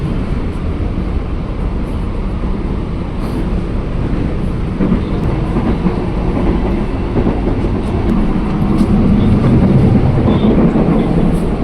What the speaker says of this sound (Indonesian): sekarang ini keretanya lancar nih, ngebut